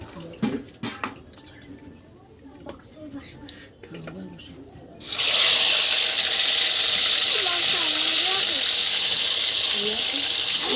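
Water pours steadily and loudly into a pot of chicken curry for several seconds after a stretch of quieter kitchen sounds and talk, with voices continuing underneath.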